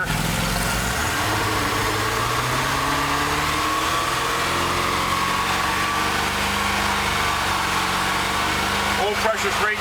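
A 1999 Donzi 2750 LXC boat's engine runs in gear, a steady loud drone with rising revs that fills the whole clip, with a brief rattle near the end.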